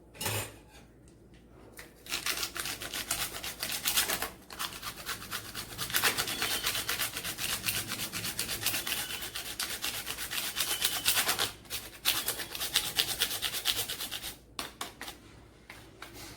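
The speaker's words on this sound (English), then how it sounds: "Then grate some mozzarella cheese, or cheese cubes are also fine." Mozzarella cheese rubbed against a kitchen grater, a continuous close rasping scrape with brief pauses between strokes, with no talking.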